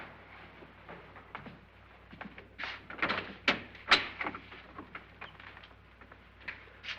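Doors in an old house, from the 1959 film House on Haunted Hill, are opened one after another, giving a quiet series of clicks, latches and knocks with brief gaps between them.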